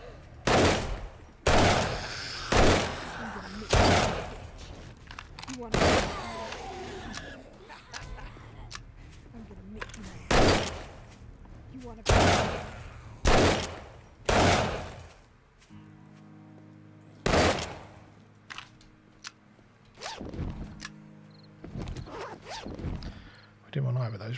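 Irregular gunshots ring out in 7 Days to Die, Darkness Falls mod, a dozen or so sharp loud reports with uneven gaps, some in quick pairs, over faint background hum.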